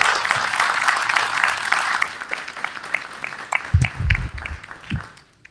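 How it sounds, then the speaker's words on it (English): An audience at a Southern University Board of Supervisors meeting applauds steadily, the clapping thinning and fading toward the end as a few low thumps and voices emerge. "Let's give him a round of applause."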